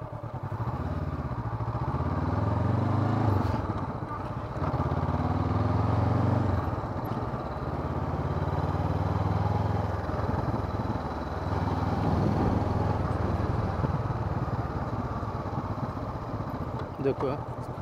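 A motorcycle weaves through a slalom of cones, its engine note rising and falling steadily as the throttle opens and closes, close by, with voices talking over it throughout.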